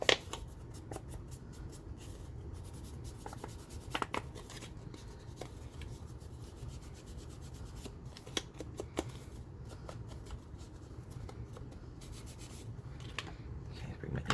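Ink is rubbed onto a leather folio panel with a steady, soft scrubbing and rasping, broken by scattered light taps and clicks, close by and fairly quiet, with no voices.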